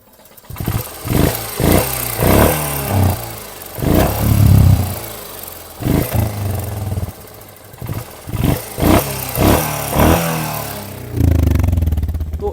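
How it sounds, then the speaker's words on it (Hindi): A Royal Enfield Hunter 350 engine with light tappet noise revs repeatedly, giving a series of close, loud throttle blips and bursts of acceleration separated by brief drops back toward idle, with faint mechanical ticking underneath. "स्टिल हल्की हल्की सी जो मीठी मीठी सी नॉइस है टैपेट की वो आ रही है।"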